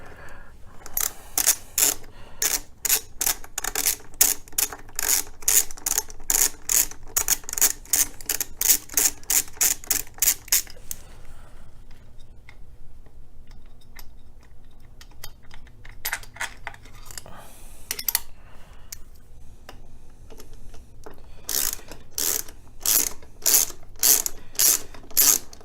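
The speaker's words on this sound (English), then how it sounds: "this is where I use the extension and my ratchet" Ratchet with an extension backing bolts off a 2017 Indian Chieftain motorcycle: fast, sharp clicking in steady bursts, a quieter pause mid-way, then renewed rapid clicks, close and loud with no talk.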